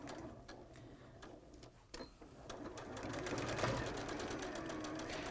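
A sewing machine stitching cushion seams during a quilting session, first a few hesitant stitches, then a steady, fast rhythmic whirr that builds and continues to the end.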